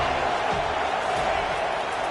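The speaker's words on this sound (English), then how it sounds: "Decibels rising as the crowd gets behind this defense on 3rd down" A football stadium crowd at a USC vs Florida game roars steadily and loudly, a dense wall of cheering behind the defense on third down with no break in the noise.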